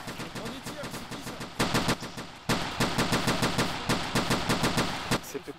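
Gunfire in the World War II shooter Iron Front: Liberation 1944: bursts of rapid automatic shots, close and loud, with regular sharp cracks and short pauses between bursts over continuous background battle noise.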